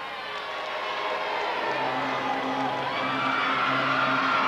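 A wrestling arena crowd cheers and shouts steadily while waiting for the wrestlers to come out, a dense, unbroken roar with whoops rising above it and a sustained tone entering partway through.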